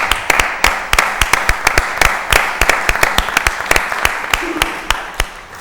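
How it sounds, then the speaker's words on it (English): A small audience at a city council meeting applauds university students, scattered individual claps ringing out close and sharp over a thinner background patter, fading slightly toward the end. "Let's give them a round of applause for attending our meeting."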